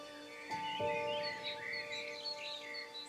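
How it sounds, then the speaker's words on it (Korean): Birds twitter and chirp in bright, overlapping calls around the Chamdangam hermitage on Seonunsan mountain, with a sustained tonal hum and a couple of soft knocks underneath, no voices present. "바람소리, 새소리가 산중 암자의 주인이 된다"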